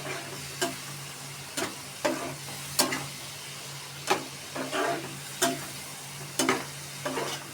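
Radish and fish curry stirred in a pan, a steady sizzling bed broken by regular sharp scrapes of the spatula, roughly one every second, close and clear.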